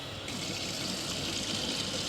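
Water from a tap runs steadily into a container to fill it for dissolving salt into brine for hatching brine shrimp, a continuous close hissing gush with no break.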